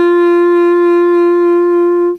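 A single sustained instrument note played with vibrato, a clear, steady, loud tone held for about two seconds before stopping abruptly, with no voices.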